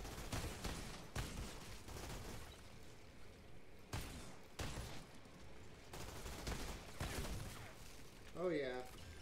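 Gunfire in the shooter game Outriders crackles in repeated sharp bursts spread over several seconds, with a brief whooshing effect near the end and someone talking faintly underneath.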